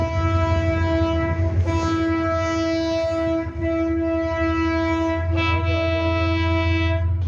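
A Karachi Circular Railway trial train runs along the track, its loud, sustained horn blaring close by over a deep continuous rumble of the train, with the horn tone wavering midway and no voices.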